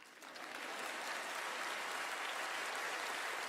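An audience at a memorial tribute concert for a country singer breaks into applause that swells quickly in the first second, then holds as dense, sustained clapping from a large crowd in a hall.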